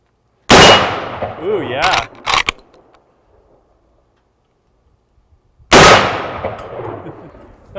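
A Marlin 1895 lever-action rifle in 45-70 fires two loud, sharp gunshots several seconds apart, each with a ringing decay; a metallic clack of the lever follows the first, and people speak briefly between shots.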